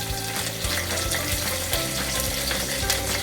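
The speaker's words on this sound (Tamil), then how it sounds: "இப்போ இது நல்லா வதங்கணும், வதக்கிக்கலாம்." Onions sautéing in a pan for a Tamil fish curry, a loud, steady sizzle with rapid crackling and scraping stir sounds heard up close.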